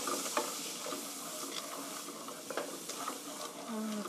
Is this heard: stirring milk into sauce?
yes